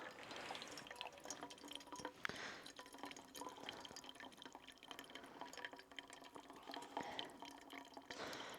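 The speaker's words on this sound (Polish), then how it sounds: "trzeba palcem ją zakryć i przefiltrować wodę do garka" Water filtered from a portable water filter with a leaking side hole drips and trickles into a cooking pot outdoors, a steady faint patter of drops.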